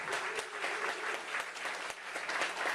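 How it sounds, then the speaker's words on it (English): A fundraiser crowd gives a round of applause, continuous dense clapping from many hands that sounds fairly distant and fills the whole moment evenly, with no voice over it. "A big round of applause"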